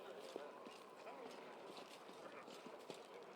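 Horse hooves clip-clop in a steady trot in the video game Pathfinder: Wrath of the Righteous, sitting low in the mix under game music and a talking voice.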